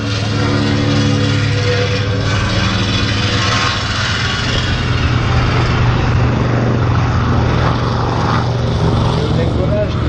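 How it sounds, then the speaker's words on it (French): B-25 bomber taking off at an air show, a loud steady droning piston-engine roar with strong low hum filling the scene, while a commentator talks over it. "Au décollage, un B-25."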